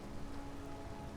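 Steady rain falls in the Skyrim video game city of Markarth, a dense, even hiss of drops hitting stone with no talk over it.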